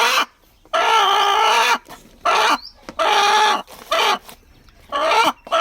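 A broody hen being set on eggs clucks and squawks in several loud, drawn-out bursts close by, separated by short quiet gaps.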